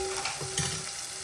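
Curry leaves, red chilli powder and turmeric sizzle in hot oil as a tempering for Gujarati dal dhokli, a brief, quiet crackling fry with a small stirring scrape partway through.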